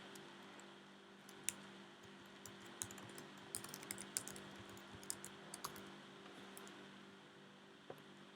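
Quiet clicking of a computer keyboard, irregular keystrokes tapped in short bursts over a faint steady hum, close and soft.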